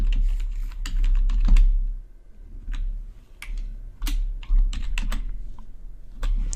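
Keys clatter on a computer keyboard while a string value is entered into a PostgreSQL database, with clusters of crisp clicks separated by short pauses, close and fairly loud.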